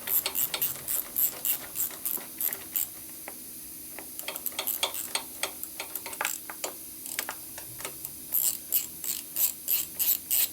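A ratchet wrench turns a fastener on a Harley Sportster motorcycle in quick bursts of close, crisp clicking, with short pauses between strokes.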